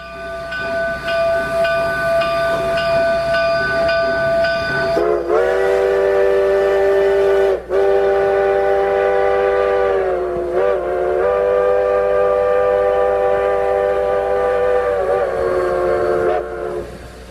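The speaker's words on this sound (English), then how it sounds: "Here's some more cool whistle sounds from some of the different trains" A train whistle blows in long sustained harmonic blasts, loud and close, shifting pitch slightly with brief breaks between blasts.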